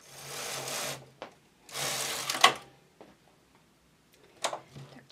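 Carriage of a domestic knitting machine sliding across the needle bed during partial knitting, two long rasping passes with clicks and short knocks in between, fairly close and alone.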